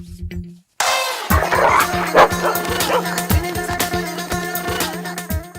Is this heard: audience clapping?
no